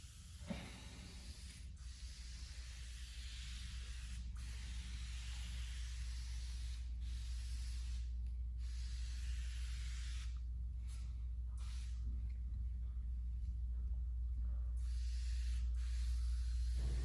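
Spray paint hissing onto a BMW E39 M5 parcel shelf, a long steady aerosol spray with a few brief breaks, close and continuous with a slightly sputtering nozzle.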